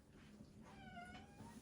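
A cat meows once, softly, in a room with toys in the corner, a single rising-and-falling cry rising out of steady background hiss with no talking.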